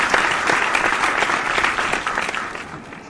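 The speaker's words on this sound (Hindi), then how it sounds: "एक बार जोरदार तालियां" Loud audience applause at a Hindi poetry gathering, dense sustained clapping from a crowd that carries on steadily for several seconds before starting to fade.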